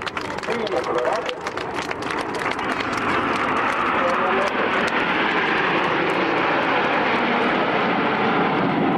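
Frecce Tricolore jet aircraft roar loudly overhead, a broad sustained engine rush that swells and holds steady for several seconds with no talk heard.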